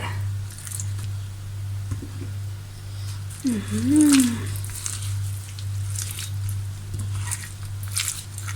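Bee mushrooms being tossed and mixed by hand in mala sauce make soft, wet squishing and sticky smacking sounds close up, over a steady low electrical hum.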